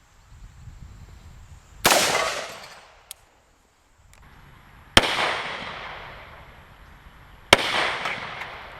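Three loud, sharp 300 Blackout rifle shots strike an AR500 steel armor plate, each crack followed by a ringing decay, spaced a few seconds apart with a faint click between the first two.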